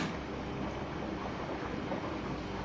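A washing machine drum spinning on its motor during a pressure sensor test, a steady, even whooshing rumble that holds constant throughout without pauses.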